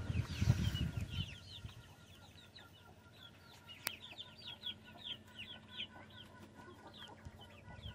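Polish, Cochin and Silkie chicks, close to ten weeks old, cluck and cheep in a busy, steady stream of short peeps, with a brief low rumble at the start and a quiet background.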